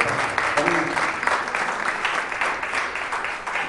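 Loud, steady applause from an audience at a Vedic felicitation ceremony at an ashram in Indore, dense clapping filling the whole stretch without a break.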